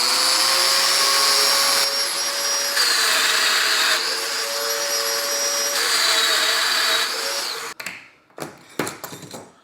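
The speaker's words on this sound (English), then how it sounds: "I'll go ahead and make my two end plunge cuts" A domino joiner plunges into wood to cut mortises, its high motor whine rising and dropping in several close, loud bursts, followed by a few clattering knocks as it shuts down.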